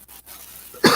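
A single sharp cough, close and loud, arriving abruptly at the end after a quiet lull, with no talking.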